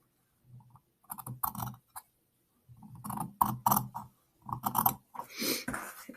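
Scissors cut along a marked line through fabric for a hand-sewn wall hanging sample, a series of near, crisp snipping and shearing crunches in bursts separated by brief pauses.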